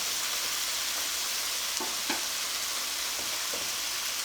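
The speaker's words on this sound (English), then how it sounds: "I'm gonna let these cook for about 2 or 3 minutes on each side before I take them out of the skillet." Chicken fries in a skillet with a steady, close hiss of sizzling oil. A couple of faint taps or stirring sounds come through partway.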